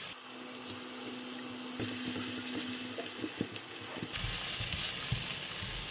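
Meat and shiitake mushrooms fry in oil and garlic in a pan, a steady sizzle that grows louder as the food goes in, broken by scraping and stirring sounds, with no voices.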